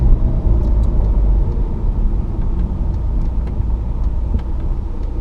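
A Renault Megane 1.9 dCi diesel car accelerates hard in gear at speed, a deep steady engine and road rumble heard from inside the cabin, with no talking.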